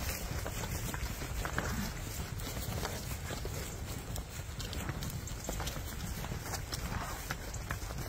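Cows running across a farm in the morning, their hooves clip-clopping in a dense, continuous patter that stays fairly even throughout, with faint background noise and no clear talk.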